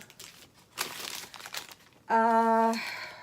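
Paper receipt from a Walmart shopping trip crinkled and rustled while being unfolded from a Dooney & Bourke handbag, several close, dry crackling bursts, followed by a brief loud tonal sound near the end.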